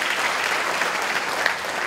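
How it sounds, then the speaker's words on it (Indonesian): A church congregation clapping together during a sermon, a steady even wash of applause from a crowd, moderately loud and continuous. "Tepuk tangan untuk Tuhan."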